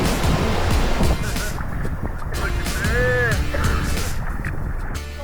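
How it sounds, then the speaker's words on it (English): Sea waves surging and washing around swimmers in the waters off Socotra, a loud continuous rush with wind buffeting the microphone and a brief whistling tone in the middle. "As I take a dip in the stunning Socotran waters with our new local friends"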